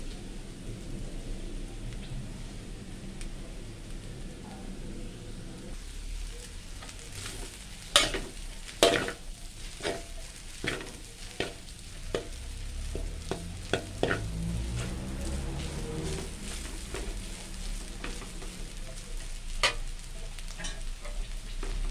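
Yellow mee sua noodles stir-fried in a pan over low heat: a steady low sizzle, then a run of sharp clanks and scrapes as the noodles are tossed, close and alone with no voices.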